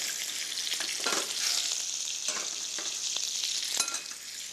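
Chicken legs fry in a hot pan with a constant close sizzle and crackle, broken by a few brief scraping stirs and pops.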